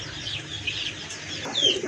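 A pair of kagji running pigeons coo softly at a market stall, a short continuous murmur of close calls.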